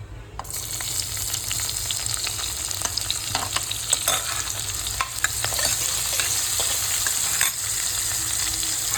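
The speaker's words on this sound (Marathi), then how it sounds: "आता ह्याच्यामध्ये आपण कांदा मिक्स करूया." Chopped onion with a pinch of asafoetida frying in a pan for a mutton dalcha, a loud continuous sizzle with dense scraping and clicking from steady stirring, no voices.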